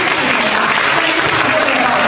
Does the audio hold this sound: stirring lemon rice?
no